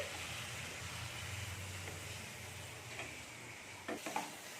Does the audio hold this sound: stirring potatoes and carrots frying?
yes